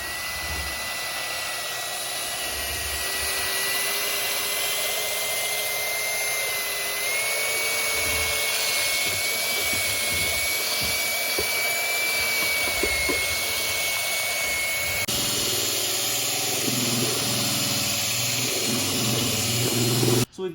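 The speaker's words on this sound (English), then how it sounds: "we're going to take our drill and mixing paddle, and again at a moderate speed we're going to go ahead and mix this for about 2 minutes" Power drill with a mixing paddle churning epoxy countertop material in a bucket at moderate speed, a loud continuous motor whine with a steady tone that shifts slightly partway through, sloshing texture underneath.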